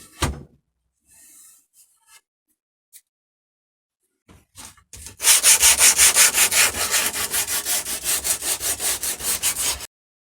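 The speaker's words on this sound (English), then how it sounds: "now I'm going to kind of smooth over these edges, maybe round over a little bit" Scattered scrapes and handling noises, then rhythmic back-and-forth sanding on the edges of a wooden guitar body, loud and close, steady strokes for several seconds before stopping.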